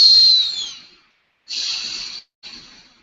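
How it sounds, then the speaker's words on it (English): A high, thin whistle from a nose during breathing, three breaths with short gaps, close and clear against near silence. "My nose just whistled when I breathed."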